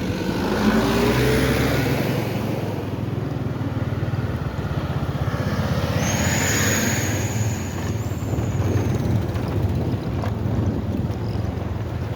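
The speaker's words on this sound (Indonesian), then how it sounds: "Itu truk-truk ke bawah ya, truk yang muatan tinggi, yang berat." Heavily loaded trucks roll downhill on the Bireuen–Takengon national road in Sumatra after a natural disaster, giving a steady, close engine rumble with wind buffeting the microphone throughout.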